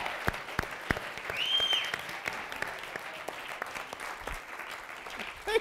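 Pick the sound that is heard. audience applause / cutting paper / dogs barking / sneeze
audience applause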